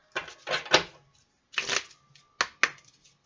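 Tarot cards being shuffled and drawn during a reading: several short papery riffling bursts in quick succession, then a pause and two sharper card snaps, close and fairly quiet, with no talking.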